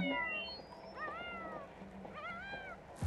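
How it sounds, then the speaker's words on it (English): A cat meows twice in a cat video, with rising-falling mewing calls about a second apart, fairly close and clear over a quiet background, ending with a sharp thump. "you like cat videos"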